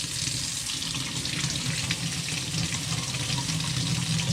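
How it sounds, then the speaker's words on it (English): Hot water streams steadily from a Delta single-handle faucet into a sink, a continuous close rushing splash with no voices. "Turn on my hot water."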